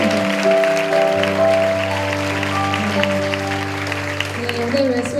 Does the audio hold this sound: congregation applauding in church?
yes